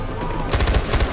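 Mounted turret machine gun in Far Cry 4 opening up mid-moment with a quick rapid burst of heavy close shots, punchy and loud after a short lead-in of game ambience.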